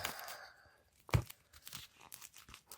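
Plastic shrink wrap rips off a BTS album in one sharp, close tear, with faint crinkling of the film before and after it.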